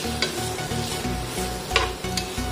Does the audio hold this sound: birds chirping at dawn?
no